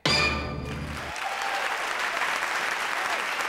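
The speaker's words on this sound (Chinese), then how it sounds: "掌声鼓励" A studio audience on a Taiwanese TV guessing game show breaks into loud, dense applause right after a brief voice at the start, the clapping holding strong and steady to the end.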